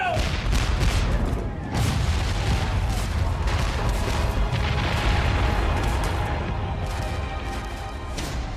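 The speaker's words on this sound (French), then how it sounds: "2500 coups de canon tirés par les Britanniques brisent la ligne de défense des rebelles" British artillery cannon fire in a 1776 New York battle scene: a dense, continuous barrage of booms and blasts layered over a steady low rumble, loud and sustained throughout with no quiet gaps.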